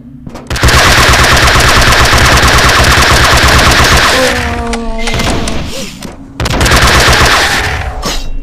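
Loud, rapid automatic gunfire rattles in long bursts in the space shooter game Deadly Space Stories, pausing briefly mid-way where a voice is heard before the firing resumes.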